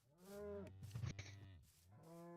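Cows in the Minecraft video game moo in low, drawn-out calls, two long moos close together with a short bumpy stretch between them, loud and alone.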